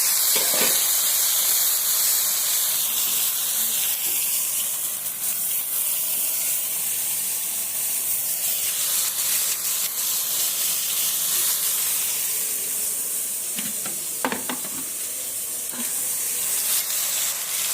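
Cucumber and tomato hiss and sizzle steadily in a hot pan, a continuous close frying spray with a few sharper crackles and clinks partway through, no talking over it.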